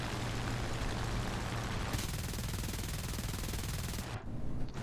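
An MG15 machine gun firing in the War Thunder flight game from a Chinese Ki-45, a dense, continuous rattling burst that grows faster and harsher partway through, then cuts off near the end.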